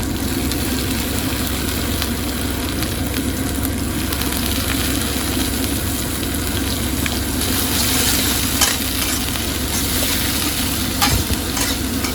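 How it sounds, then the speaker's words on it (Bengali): Fish frying in a pan, a loud, steady sizzle running unbroken throughout with a few faint stirring clicks, and no voices. "তো মাছ ভাজা হচ্ছে"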